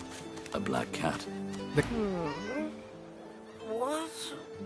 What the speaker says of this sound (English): A black cat.